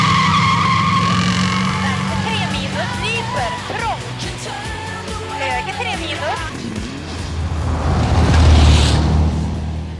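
A rally car is driven hard, its engine roaring while tires screech and skid in squealing bursts, the sound loud and close, swelling into a deep rumble near the end.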